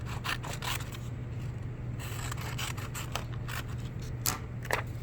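Scissors cutting a triangle out of black paper for a kindergarten craft, a quiet run of soft snipping and rustling strokes, close and faint over a low steady hum.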